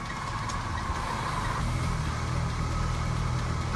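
An unregistered Casalini Twist microcar drives along a small back path, its engine producing a steady, fairly loud mid-pitched drone throughout with no voices.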